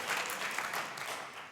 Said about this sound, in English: great to hear applause, thank you